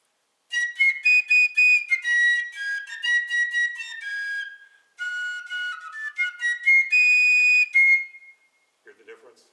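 A fife plays a bright, shrill melody of rapid notes in two phrases, close and loud, with a short pause between them.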